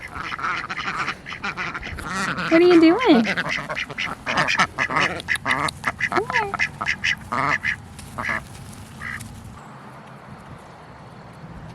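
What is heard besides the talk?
ducks quacking in a garden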